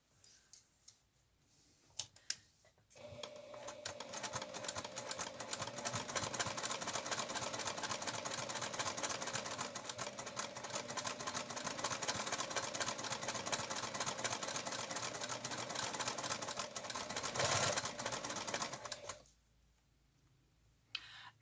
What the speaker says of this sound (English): Now we're going to sew that from this side